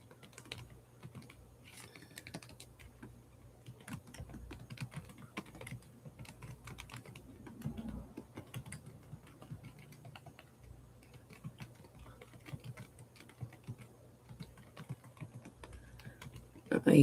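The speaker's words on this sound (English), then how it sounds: "You guys can probably hear me typing and clicking and all that stuff." Quiet keyboard typing with scattered clicks, irregular taps continuing throughout at low volume in a calm room.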